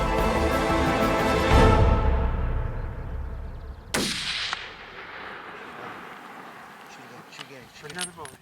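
A rifle gunshot rings out during a bear hunt, one sharp loud crack with a rolling echo that fades, heard over outdoor rumble and people talking.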